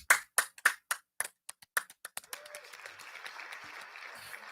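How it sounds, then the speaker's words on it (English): A small group claps in a short round of applause during a podcast taping, starting as distinct separate claps, then blending into a soft steady patter that fades. "Let's give a round of applause for that."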